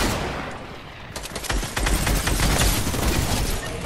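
Rapid gunfire in the video game Fortnite, a dense burst of repeated close shots that builds after the first second into a sustained, loud rattle of overlapping rounds.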